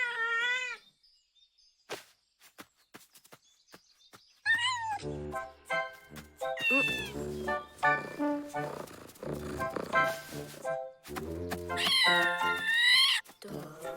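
Cartoon cat meows repeatedly in high, wavering cries, alone at first, then several loud meows over a busy cartoon soundtrack with music and effects.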